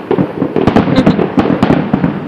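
Big Fourth of July fireworks explode in rapid, overlapping booms and crackling bursts, loud and dense with barely a pause between them.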